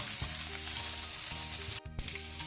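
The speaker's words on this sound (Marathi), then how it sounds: "आतां हातूंत आमी भाजून काडया" Boiled pork pieces fry in a pan with a dense, close hissing sizzle and intermittent low clunks of stirring, a short gap near the end before the frying noise resumes; nobody speaks.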